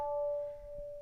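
One sharp, ringing tabla stroke ("ta") with a clear sustained pitch that decays slowly, close and fairly quiet.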